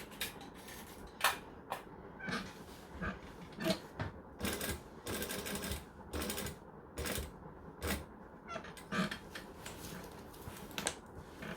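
A sewing machine free-motion quilting a denim jacket, bursts of rapid needle stitching starting and stopping in short runs, fairly close and moderately loud.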